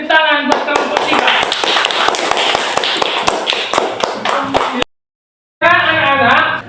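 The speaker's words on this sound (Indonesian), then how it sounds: "Kasih tepuk tangan buat kelompok 3." Classroom of students clapping for a group after a drama performance, a brisk burst of hand claps lasting several seconds, then a brief silence before voices return.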